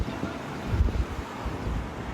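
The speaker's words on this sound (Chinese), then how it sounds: "但瞬间刮起的10级强阵风威力依旧惊人" Strong typhoon wind gusts buffet the microphone with a dense, roaring rush, swelling and easing in uneven bursts across the short stretch, with no voices.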